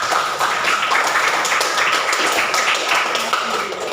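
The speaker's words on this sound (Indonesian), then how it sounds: "Tepuk tangan buat kita semua." Classroom students applauding together during a teacher-training lesson in Indonesia, a steady, dense clatter of many hands sustained throughout at even loudness.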